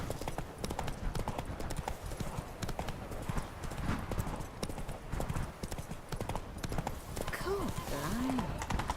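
Horse hooves clip-clop at a gallop in the Witcher 3 video game, a steady rapid beat running throughout with game music and a brief whinny-like tone near the end.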